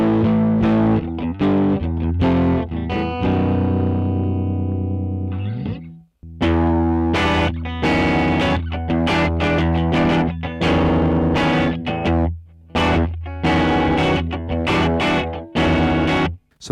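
A distorted electric guitar through a plugin in Logic Pro plays gritty sustained chords and then choppy strummed and picked phrases with a short pause between them, loud and close, with chorus-like shimmer.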